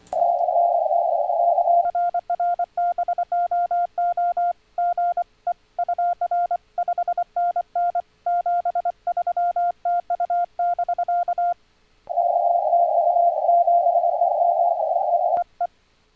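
Morse code CW tones keyed back and forth between two stations, one sending about 80 Hz above the other's zero-beat frequency, with steady carrier stretches at start and end framing rapid clear beeping dits and dahs, loud and without voices.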